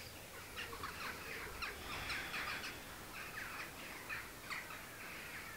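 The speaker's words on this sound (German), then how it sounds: "Ich weiß nicht, ob ihr im Hintergrund das seht oder hört, dass hier ganz viele Krähen rumschwirren." Crows calling repeatedly in the background outdoors, scattered caws and squawks over a steady ambient hiss, moderately distant.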